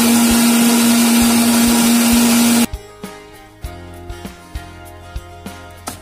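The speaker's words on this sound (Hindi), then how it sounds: "अब आप देख सकते हैं हमारी कोल्ड कॉफ़ी बिल्कुल अच्छे से ब्लेंड होकर रेडी हो गई है" Electric blender whirring loudly at steady speed through cold coffee with ice cream, then cutting off abruptly, followed by quiet clinks and knocks of a few light taps.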